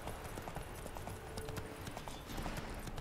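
Horse hooves clip-clop in The Witcher 3: Wild Hunt, a quick, steady rhythm of soft hoofbeats on the ground, fairly faint and alone.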